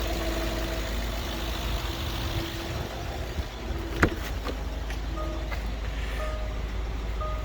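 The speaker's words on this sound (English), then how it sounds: "let me turn off the engine a minute" A Range Rover 3.6 TDV diesel engine idles steadily, a low, even rumble close by with a faint whine above it and one sharp knock partway through.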